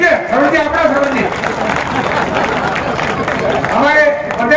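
Audience applause and crowd noise at a political conference at Mani Mahal Resort in Laxmangarh, with steady clapping and hubbub running throughout beneath a loud amplified voice addressing the gathering.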